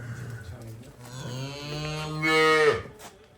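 A dairy cow at a cattle seller's farm in Dhawan village, Gurdaspur district, Punjab, lets out a single long, loud moo nearby that swells and rises before cutting off.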